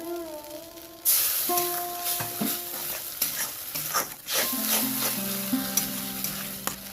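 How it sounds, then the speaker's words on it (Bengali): Chicken cheese momo filling being mixed and stirred in a bowl with red chilli sauce, a steady scraping and stirring texture with brief clatters, close and continuous, no talking. "আমি সব মিশিয়ে নেবো।"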